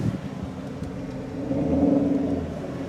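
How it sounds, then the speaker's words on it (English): A 2016 Chevrolet Camaro convertible pulls in nearby, its engine rumble swelling and settling into a steady low growl over a few seconds, moderately loud and alone. "That is a 2016 Camaro convertible that just pulled in over there."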